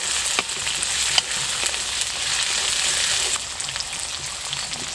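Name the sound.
bean seeds frying in oil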